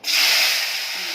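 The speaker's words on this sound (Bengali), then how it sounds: "এটা এখন আমি আলু আলু ছোট ছোট করে কেটেছি, এটা ভাজবো, ভেজে বের করবো" A sudden loud hiss as small potato pieces hit hot oil, settling into a steady frying sizzle.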